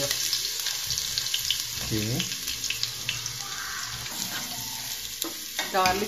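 Garlic sautéing in hot oil in a pan for chicken macaroni, giving a continuous close sizzle with occasional stirring clatter and a running-water-like hiss, and a voice briefly audible in the background.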